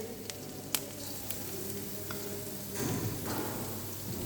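Chopped carrot and cabbage go into a hot frying pan for a vegetable Manchow soup, giving a steady soft sizzle that swells into a louder, fuller frying hiss near the end, with a few small clicks before.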